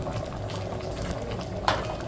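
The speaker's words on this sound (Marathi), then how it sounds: "मग अशी मीठ टाकलेलं आपण बॉईल करताना." Salted water bubbles at a rolling boil in a pot for a village-style seafood boil, a dense, steady gurgling and popping close up, with a brief clink near the end.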